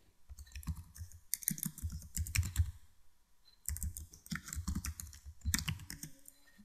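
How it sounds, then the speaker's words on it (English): A computer keyboard is typed on in two close bursts of rapid clicking keystrokes, separated by a short pause while a name and email are entered. "Here type your first name and last name, and last type your email"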